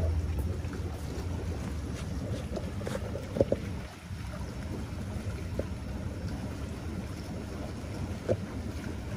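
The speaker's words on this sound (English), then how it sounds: "Our air blower has just turned on, which is now making our spa" Spa air blower running with water churning and bubbling in a hot tub with jets, a steady close, broadband rush and gurgle throughout, with a brief dip near the middle.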